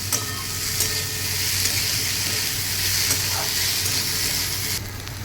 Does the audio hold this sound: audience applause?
no